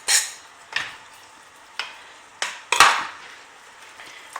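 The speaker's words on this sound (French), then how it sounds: "Je mélange." A spoon stirring sauce for moussaka in a pan, five or six distinct scraping knocks spaced about half a second apart, close and clear with light sizzle between.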